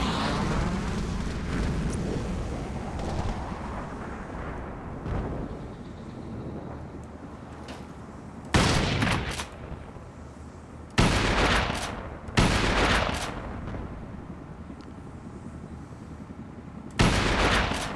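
A precision sniper rifle in the game Crysis fires four loud, separate booming shots, each a sharp blast with a short decaying tail, over a rumbling ambient background.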